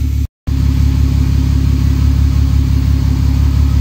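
A VW Golf mk4 R32 turbo engine idling steadily after first firing up, a loud close continuous rumble with a brief cut to silence near the start.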